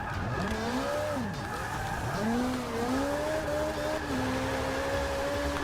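A Ferrari F430 Scuderia drifts through a long turn in a racing video game. Sweeping, wavering tire squeals rise and fall over a steady engine drone, sustained and close for several seconds.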